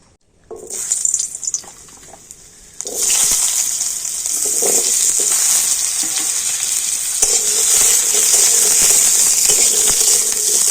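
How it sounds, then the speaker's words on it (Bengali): Diced potatoes drop into hot mustard oil in a wok after a few clinks, and a loud, dense sizzle bursts up and keeps going close by, steady and bright, with no talking. "এবারে তেলের উপর আমি আলু ভেজে নেব"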